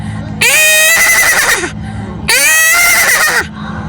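A man at the Prayagraj Mahakumbh 2025 gathering imitates a horse neighing with his voice, giving two loud, shrill whinnies, each about a second long with a wavering, falling tail, close to the listener.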